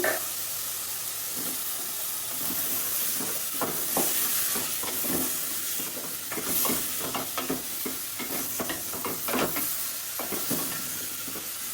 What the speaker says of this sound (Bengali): এখন আমি তরকারিগুলো দিয়ে নেড়ে চেড়ে আর একটু কষিয়ে নিব।